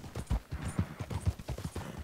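A horse's hooves clip-clop at a steady walking rhythm in the video game Red Dead Redemption 2, soft and fairly faint, with no speech over them.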